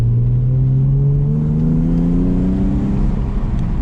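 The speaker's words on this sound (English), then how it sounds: "Hear that exhaust going?" A Nissan 300ZX sports car engine revs with a deep exhaust drone, its pitch rising steadily, loud and close.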